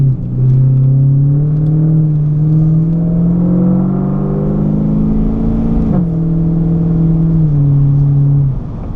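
A Clubsport car cruises in top gear after a rebuild, its engine a loud, close drone that slowly rises in pitch, dips briefly with a click around the midpoint, then holds steady before easing off.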